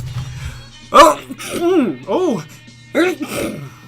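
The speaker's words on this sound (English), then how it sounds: "Sneezing now." A person fakes a sneeze, a few voiced, pitched bursts with sharp onsets, close to the mic, over a low steady hum.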